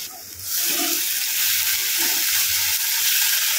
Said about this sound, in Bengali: হালকা করে কাশ্মীরি মির্চ, ভালো করে ফ্রাই করতে হবে